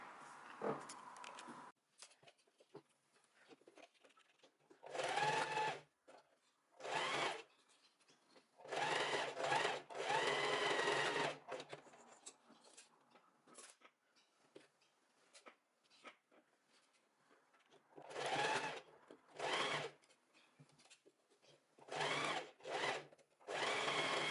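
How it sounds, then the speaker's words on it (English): A sewing machine stitches a seam on a tied vest. It runs in loud, rapid whirring bursts of a second or several, separated by quiet pauses, with small handling clicks between. "And now we're gonna sew from here till here, and then the same from here till here."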